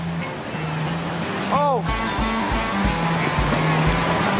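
Roaring whitewater of Woodstock Hole, a large hydraulic on the Gauley River, rushes steadily and loudly throughout, with a brief voice and a short bird-like chirp over the constant churn.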